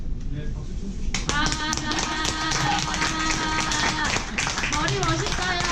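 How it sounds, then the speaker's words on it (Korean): An audience at a Korean talk event claps in bursts beneath a voice speaking over it, the claps sharp and fairly close after a quiet opening second. "박수 쳐주시고"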